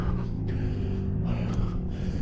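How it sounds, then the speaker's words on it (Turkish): Heavy, continuous panting after a fast climb up a steep desert sand dune in Iran, breathing close and loud throughout with low wind rumble underneath. "Çok nefes nefese kaldım."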